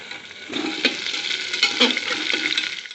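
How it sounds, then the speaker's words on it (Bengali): Soaked lentils and tomatoes fry in a pan, a steady close sizzle broken by scraping stirs that come in bursts throughout. "এর মধ্যে আমি এবার টমেটো দিয়ে দেবো, দিয়ে ভালো করে ভাজতে থাকবো"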